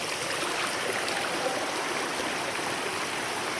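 A shallow stream near a waterfall flows in a steady, even rush of churning water, close and continuous with no voices over it.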